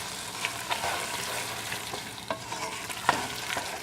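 Shredded cheese being stirred into pepper mac and cheese in a hot pan, a soft sizzle underneath with repeated scraping stir strokes and occasional clacks of the utensil, close and steady.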